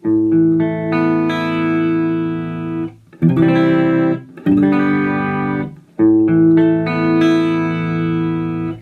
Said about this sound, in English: So if I play my clean sound, it's going to sound like this.